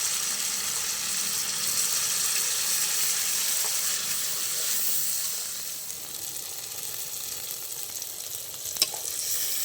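Ground spice paste frying in a pan with tomatoes that have already softened, giving a steady, fairly loud sizzle and hiss for the whole stretch, with faint stirring scrapes and one sharp click near the end.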